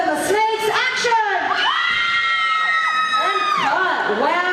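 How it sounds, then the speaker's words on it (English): A small group of people screams together on cue, loud, overlapping shrieks and yells that rise and fall in pitch, sustained throughout without pause. "scream as if you're falling into a pit of venomous snakes"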